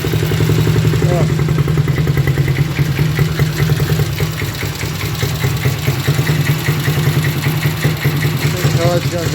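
A Honda Dream motorcycle engine idles steadily while warming up after a carburetor repair, a close, continuous mid-pitched putter with light mechanical clatter throughout.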